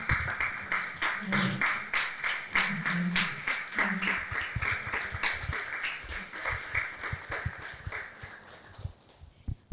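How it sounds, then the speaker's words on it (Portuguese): An audience at a women's rights event rises to its feet and applauds, a steady wash of many hands clapping close by that thins toward the end, with a few voices faintly mixed in. "que todos nós nos coloquemos de pé para aplaudir"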